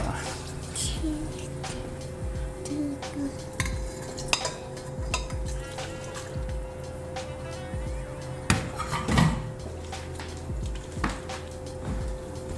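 Chicken liver soaking in a liquid marinade is stirred by hand, giving repeated wet swishes and light utensil clinks against the bowl close by, while voices talk in the background.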